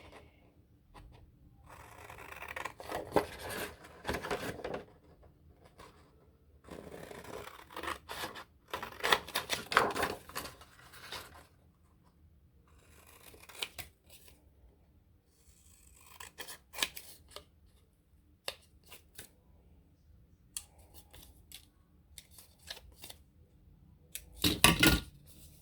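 Scissors cutting paper from a junk mail envelope for a craft bellyband: bursts of crisp snipping and rustling paper, close and quiet, separated by silent pauses, with no talk.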